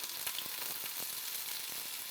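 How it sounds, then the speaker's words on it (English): Garbanzo beans sizzling in hot olive oil in a pan, a steady bright frying hiss with small pops and crackles scattered throughout. "Once the pan's hot and the olive oil's in, we're going to toss in our garbanzo beans."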